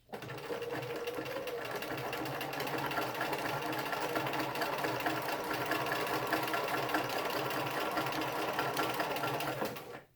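A sewing machine stitches fabric in one continuous close run of steady mechanical whirring and rapid needle chatter, stopping abruptly at the end.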